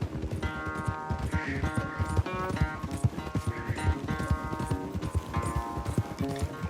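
Horse hooves pound in a fast galloping race in Red Dead Redemption 2, steady rapid clip-clop close by, with sustained musical tones running underneath and no talking.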